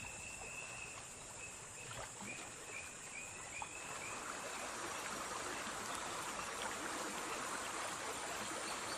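A gorgeous river flowing steadily, a continuous close rush and babble of water with faint high tones above it and no voices.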